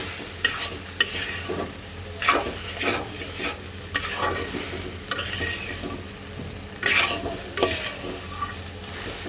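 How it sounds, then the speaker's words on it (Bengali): Ginger paste and coriander powder are stirred into a sizzling potato and soybean curry, a spoon scraping the pan in repeated strokes over a steady close fry, with no talk. "দিয়ে দেব আদা বাটা দিয়ে দেব ধনে গুঁড়া এইবার খুব সুন্দর করে মিক্স করে দিতে হবে"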